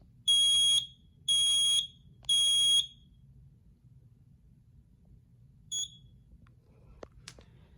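A Kidde battery-operated micro profile smoke alarm, dated 2024, sounds three loud, even high-pitched beeps in a steady pattern, then falls quiet except for a short faint chirp and a couple of small clicks.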